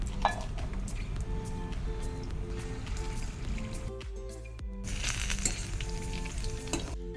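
Oil sizzles and crackles steadily as eggplant fritters fry close up, with occasional scraping and stirring sounds.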